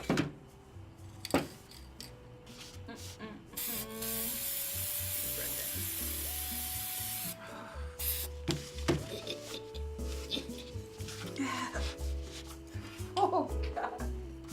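An aerosol can sprays a steady hiss of clear coat onto handmade craft coasters, one long burst and a shorter one, with people talking and laughing before and after.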